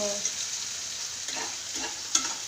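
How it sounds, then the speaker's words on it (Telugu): Ingredients for palak paneer with garlic fry in a pan while being stirred, a soft steady sizzle broken by a few brief scraping clinks of the spoon. "అన్నీ ఇలా కలుపుకోవాలి"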